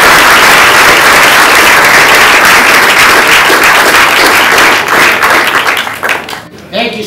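Loud, sustained audience applause fills a campaign launch rally for a state governor, steady clapping that thins and fades toward the end.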